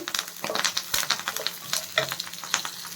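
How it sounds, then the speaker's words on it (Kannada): Five or six garlic cloves fry in a pan with a busy, crackling sizzle, mixed with frequent quick stirring scrapes in an irregular rhythm. "ಐದರಿಂದ ಆರು ಹೆಸರು ಬೆಳ್ಳುಳ್ಳಿನ ನಾನು ಹಾಕ್ಕೊಳ್ತಾ ಇದ್ದೀನಿ ಈಗ ಇದನ್ನೆಲ್ಲ ನಾವು ಚೆನ್ನಾಗಿ ಸ್ವಲ್ಪ ಫ್ರೈ ಮಾಡ್ಕೋಬೇಕು"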